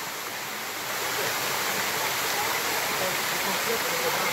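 The Sticky Waterfalls, with a cave nearby, rushing steadily as a broad constant hiss of water that grows a little louder after the first second, with no clear talk over it.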